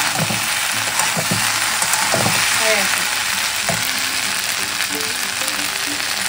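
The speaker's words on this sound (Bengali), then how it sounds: "দুধ জাল দিচ্ছি, দই পাতবো। দুধটাকে একদম ঘন করে জাল দেবো" Milk boiling down in a pan to thicken for making curd, a constant loud bubbling sizzle with occasional clinks of a utensil, steady throughout with no voices.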